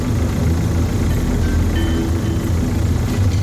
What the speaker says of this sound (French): C'est le bruit du moteur.